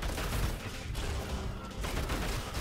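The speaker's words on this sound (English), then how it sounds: "I'm guessing that was like a turret." Rapid gunfire-like bursts from an enemy turret in the video game Bunker Punks, a dense crackling volley that runs almost continuously and fairly loud for about three seconds, with a brief dip midway.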